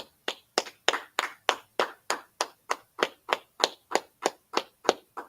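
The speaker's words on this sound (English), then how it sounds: "Let's clap it up." A congregation at a Sabbath service claps in a steady, even rhythm, about fifteen sharp, loud claps in quick succession with no talk over them.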